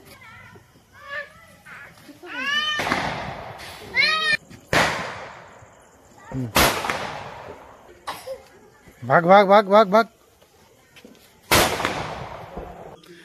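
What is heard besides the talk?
firecrackers bursting for Diwali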